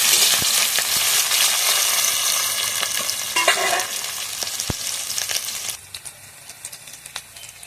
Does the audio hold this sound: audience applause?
no